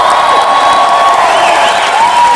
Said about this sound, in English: let's hear it if you're going to clap there